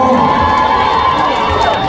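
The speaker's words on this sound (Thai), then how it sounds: "สียงปรบมือแรงๆให้กับน้องออกก่อนนะครับ" A crowd at a fan event in a Bangkok shopping mall cheers and shouts loudly, with high excited voices. The noise is continuous and close, and a voice is audible within it.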